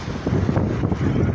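Wind blowing at the seashore where fishermen wait to go out, a short burst of gusty rumbling buffeting against the microphone, steady and fairly loud.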